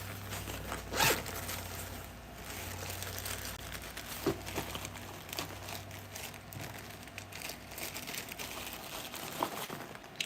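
A zipper on a Limitless parts bag rasps several times over a low background hum, with crinkling fabric and plastic handling noises in between, close by and fairly quiet.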